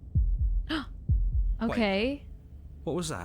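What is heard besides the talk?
heartbeat sound in the video game Slay the Princess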